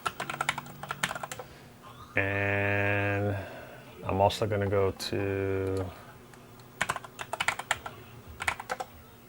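Rapid keyboard typing clicks in short bursts at the start and end, with someone talking through the middle.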